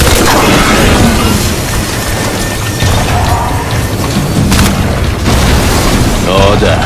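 A train full of explosive materials blows up in the video game Crysis 3, heavy booming blasts and crashing rumble filling the whole stretch loudly, with voices mixed in.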